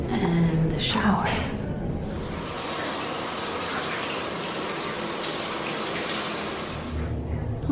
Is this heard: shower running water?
yes